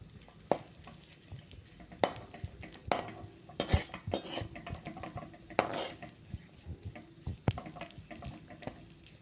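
A spoon scrapes and clinks against a pan as raisins are stirred and fried for carrot jaggery laddus, with irregular metallic knocks over a soft sizzle, close and moderately loud, with no talk.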